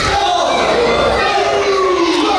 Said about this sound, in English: I'm not quite used to hearing the crowd get behind the Howletts